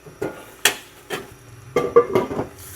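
A metal lid clanks and scrapes as it comes off a pot of boiling soup, a handful of sharp, close knocks and rattles in an otherwise quiet kitchen.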